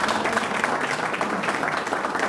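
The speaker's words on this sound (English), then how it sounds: "let's give Keith a round of applause" An audience of a talk in a room applauds the speaker, a dense, steady round of clapping from many hands, fairly close and unbroken for a couple of seconds.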